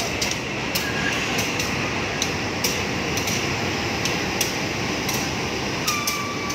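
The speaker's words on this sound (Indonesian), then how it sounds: "Di sana yang baru datang kereta api Sri Tanjung dari Lembuyangan memakai lokomotif CC01106 Dewenduk JNG Jatinegara yang masuk di jalur 2 stasiun Surabaya Gubeng Lama." Sri Tanjung passenger train hauled by a CC201 diesel locomotive pulling into Surabaya Gubeng station, a loud continuous rumbling roar with rhythmic clicks of wheels over rail joints, close by.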